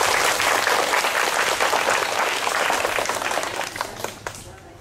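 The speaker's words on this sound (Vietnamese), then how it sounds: "chúng ta cho thầy một tràng pháo tay." Children at a summer youth gathering give their teacher a round of applause, dense lively clapping that stays loud before tapering off into a few scattered claps.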